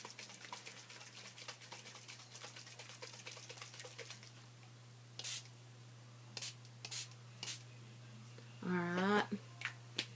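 Several short, sharp spritzes from a spray bottle, spaced apart over a quiet background hum with faint rubbing sounds.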